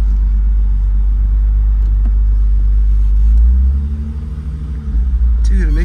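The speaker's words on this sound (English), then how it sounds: "This is how an old M5 should ride." An old BMW M5 drives along with a steady, deep engine and road rumble heard from inside the cabin, swelling briefly as it accelerates before settling again.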